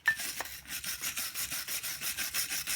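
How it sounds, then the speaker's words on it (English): A wire brush scrubs rust off a Honda front brake caliper in close, rhythmic back-and-forth rasping strokes, about five per second, harsh and scratchy, with no talk. "The wire brush like this, remove the rust."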